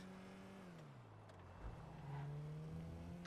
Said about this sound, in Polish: Ładnie ten silnik brzmi. Tak na sportowo.